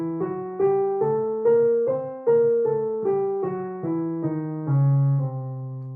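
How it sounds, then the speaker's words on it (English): An octatonic scale of alternating semitones and tones is played as a run of single, evenly spaced notes, each ringing cleanly with a soft, ethereal, mystical quality, finishing on a longer held tone. "And an octatonic scale is where we'd have a semitone and then a tone"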